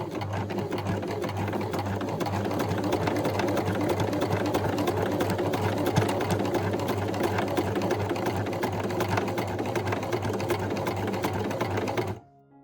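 A sewing machine runs a straight stitch on men's shorts, a steady close whirring hum with a rapid even needle rhythm that continues unbroken for about twelve seconds, then stops abruptly.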